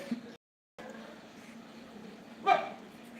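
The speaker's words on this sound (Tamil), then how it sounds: "எனக்கு என்ன நாய் வந்து ரொம்ப சத்தம் போடுதுன்னு தெரியல" Quiet background hum with a single short dog bark near the end. No one speaks.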